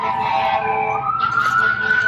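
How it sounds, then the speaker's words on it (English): Wailing siren heard from indoors, a steady tone that slides upward and holds, loud and continuous throughout this short stretch with no talk. "It's a siren going off."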